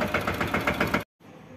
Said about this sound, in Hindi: तो जी अब ट्रैक्टर जो है मेरे हाथ में आ गया था और अब मैं चला रहा हूँ धीरे धीरे